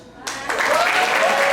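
An audience at a night talk show bursts into applause, a dense wash of clapping that starts abruptly and holds steady and fairly loud.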